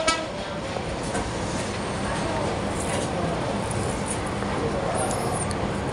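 The Dhaka to Cox's Bazar Parjatak Express intercity train runs with a steady loud rumble and roar near Akhaura, with a faint horn-like tone near the end.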